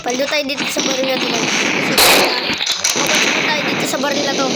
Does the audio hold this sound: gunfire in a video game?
yes